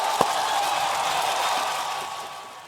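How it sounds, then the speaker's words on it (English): An awards ceremony audience gives sustained, even applause for a finalist, a continuous bright patter of many hands from across the room, with one sharp knock near the start. "Let's give him a round of applause."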